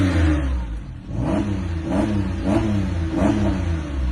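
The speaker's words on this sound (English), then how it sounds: "Engine sounds good." A Japanese-market Porsche engine with a gearbox oil leak revs repeatedly, four rising-and-falling surges over a steady close, loud drone, with no talking.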